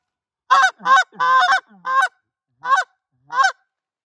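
A Canada goose call blown by hand gives six short honks, the middle one drawn out, in an uneven rhythm with clear gaps of silence between them, loud and close.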